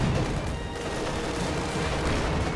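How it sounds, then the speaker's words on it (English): A rifle grenade goes off amid a video game battle with squads, Panzer IV tanks and gunfire, its blast buried in a dense, continuous roar of combat that stays loud for the whole stretch. "Made an attempt at a rifle grenade."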